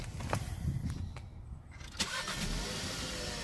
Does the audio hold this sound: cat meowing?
no